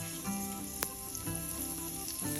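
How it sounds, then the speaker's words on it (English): Butter melting and sizzling in a hot non-stick pan, heated before scrambling eggs; a steady close crackle and hiss runs throughout, fairly loud, with no talk. "get the pan nice and hot and then melt your butter in the pan"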